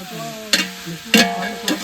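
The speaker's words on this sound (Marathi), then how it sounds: "चिकन गेलेलं आहे फोडणीमध्ये" Chicken fries in hot oil with a spiced tempering, giving a steady sizzle with three bright bursts of louder crackling as the pieces are stirred, close and with no talk.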